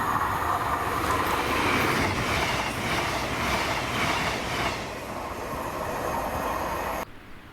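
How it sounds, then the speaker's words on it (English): CrossCountry Class 221 unit 221 120, running a Plymouth to Aberdeen service, passes at Monifeith as a loud, steady roar of wheels and engines with some clickety-clack, fading slightly before ending abruptly. "Cross country service to Aberdeen from Plymouth with 221 120."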